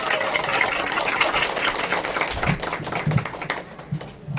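Audience applause welcoming a lecturer onto the stage at a consumer-education talk, a steady wash of many hands clapping that thins out toward the end.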